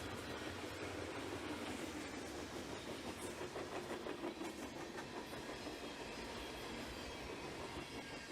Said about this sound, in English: As our train is finishing up, we see it crossing the Kentucky River Bridge.